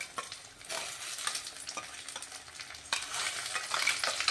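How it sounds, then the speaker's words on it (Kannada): Food sizzles steadily in a pan as rice is cooked, with stirring scrapes and a steady frying hiss running throughout at close range, and no voices. "ಇವಾಗ ಗೋಲ್ಡನ್ ಕಲರ್ ಬರೋವರೆಗೂ ಫ್ರೈ ಆಗುತ್ತೆ"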